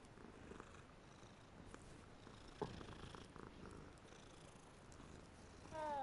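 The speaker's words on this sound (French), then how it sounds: "Oh, il y a des beaux chats." Cats purring in the Hogwarts Legacy video game give a faint, continuous soft rumble, quiet and alone, with a brief click partway through.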